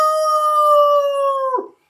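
A person imitating a wolf howling at the moon, one loud sustained tonal howl held steady for over a second and a half before dropping off sharply, close and alone.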